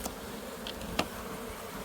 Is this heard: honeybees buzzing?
yes